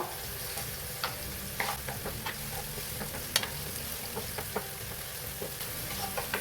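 Salted vegetables sweat in a pan for a vegetable tortilla under a low, steady sizzle, with scattered small ticks and scrapes of stirring, close and quiet.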